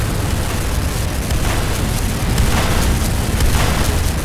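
A Tiberium Refinery building blows up in the Renegade game, a dense, sustained roaring rumble of explosion and debris that stays loud and steady throughout with no voices.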